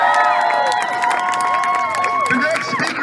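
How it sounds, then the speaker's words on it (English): At a political rally, a crowd cheers and whoops with scattered clapping for about three seconds. The sound stays fairly loud and continuous throughout. "Let's give another round of applause for Kyle Chapman."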